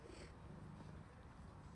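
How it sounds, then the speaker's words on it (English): A cat purrs softly and steadily in a quiet room at home, a faint low rumble with no other sounds. "Kitty cat."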